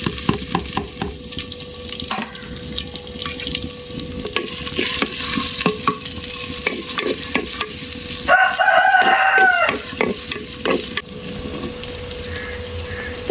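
Ginger, garlic and green chili frying in a pan, a loud steady sizzle with stirring clinks and scrapes, and a rooster crowing in the background partway through.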